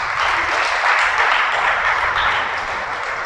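A church congregation breaks into applause at the preacher's urging, a dense, steady wash of clapping hands that holds evenly for a few seconds with no voices over it.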